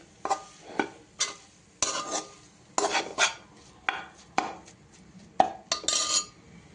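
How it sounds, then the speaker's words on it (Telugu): Onions and a green chilli frying in a pan, with a spoon repeatedly scraping and clinking against the metal in quick strokes over a light sizzle, close and without voices. "కాసిన ఉల్లిపాయలు, ఒక పచ్చిమిరకాయ వేపుకుంటున్నాను"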